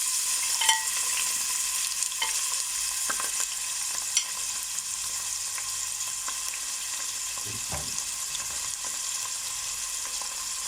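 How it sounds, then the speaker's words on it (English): Onion, chili and curry leaves fry in hot oil in a pot, a steady broad sizzle running throughout with a few scattered scrapes and clicks of stirring, no voices. "heat up your oil in your pot and add in your onion, chili and curry leaves"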